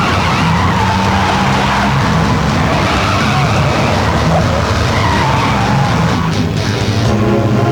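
Car tires skidding and screeching loudly and continuously during a chase in a Hindi-dubbed South Indian action film, with engine roar underneath and no talk.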